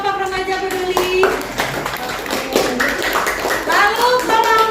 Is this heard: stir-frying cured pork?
no